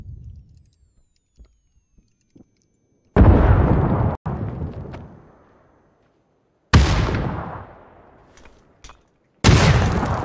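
Grenades explode in a tactical shooter video game: three loud booms with decaying tails, separated by quieter stretches with faint scattered clicks and noises.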